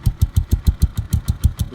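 A Honda TMX Alpha motorcycle idles close by, its exhaust putting out a steady, even train of low pulses, about six per second.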